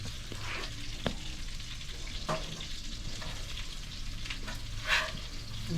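Fish and crab cakes fry in a pan, giving a soft, continuous sizzle with a few faint clicks and clatters from a lid or utensil, fairly quiet and without talk.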